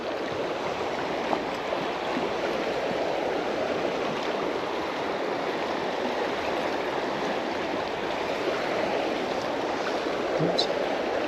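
Fast-flowing water of the River Doon rushes steadily past a wading angler as a broad, close, continuous roar of turbulent current with no break.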